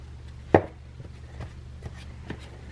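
A fork cuts softened butter into dry cake mix for Halloween cake balls, giving one sharp tap against the bowl followed by a few faint, soft scrapes and clicks over a low steady hum.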